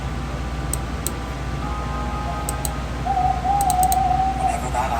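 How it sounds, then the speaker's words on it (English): An owl gives a long, wavering hoot midway through, over steady low background hum, with a few faint clicks scattered before it. "Whenever that owl hoots,"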